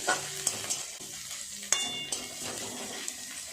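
Onion, ginger, garlic and chopped chilli stir-fried in a pan, a steady close sizzle broken by sharp clicks and scrapes of a spatula against the metal, with no talking.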